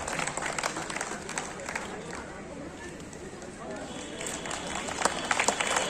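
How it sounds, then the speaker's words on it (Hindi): Audience applause at a national seminar on education policy, steady broadband clapping filling the room throughout, swelling slightly toward the end. "तालियां।"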